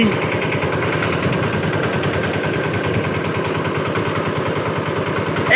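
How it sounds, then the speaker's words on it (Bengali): A fishing trawler's engine runs steadily close by, a loud, even mid-pitched chugging drone with a fast regular pulse and no break from start to end. "এই ইঞ্জিনের কাঁপে কাঁপে না আর কাঁপে না আওয়াজও তো ঠিকঠাকই আছে"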